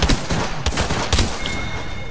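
Rapid gunfire in the video game Apex Legends, a loud dense burst of repeated shots that fills the whole moment with no gap, close and harsh, followed by a brief electronic tone.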